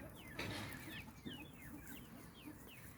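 Indian game chickens, a hen and her chicks, make soft clucks and high thin peeping chirps outdoors, repeated calls scattered over a steady faint background.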